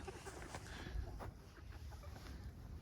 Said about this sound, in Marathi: पण आता ताई त्यांच्या फार्म हाऊस वर या साईडला कोंबड्या बघा